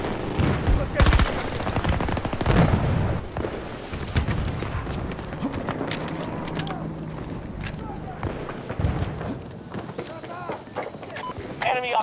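Gunfire in Battlefield 2042 Breakthrough mode: loud rapid automatic bursts and single shots crowd together, with shouted voices and game chatter over the din.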